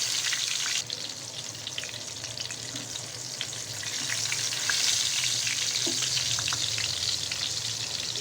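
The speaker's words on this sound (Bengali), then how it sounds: "ফ্রাইং প্যানে একটু সর্ষের তেল দিয়ে তেলটা গরম হতে বসিয়ে এক এক করে আমার বেগুনগুলো এখন আমি ফ্রাই প্যানে" Eggplants fry in hot mustard oil in a frying pan, giving a steady, close crackling sizzle with small pops throughout that swells slightly partway.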